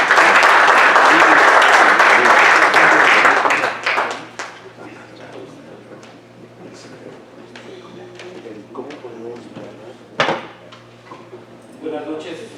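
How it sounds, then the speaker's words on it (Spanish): Audience applause at a medical society event honoring a doctor, a loud dense burst of clapping for about four seconds that quickly dies away, leaving room noise, scattered knocks and faint murmuring. "Vamos a dar un aplauso"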